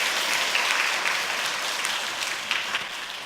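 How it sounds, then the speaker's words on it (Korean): A church congregation at an Easter Sunday service claps together, a dense, steady burst of applause filling the room for a few seconds and tapering slightly toward the end. "우리 박수 한번 하고 격려하고 환영하겠습니다"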